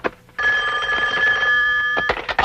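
A telephone rings loudly and steadily with a bright electronic bell tone, then cuts off near the end, where a few brief sharp sounds follow.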